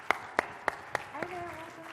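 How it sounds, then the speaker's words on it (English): Four or five sharp, separate claps ring out in a conference hall as a panel discussion on healthcare begins, followed by a voice starting to speak. "Round of applause."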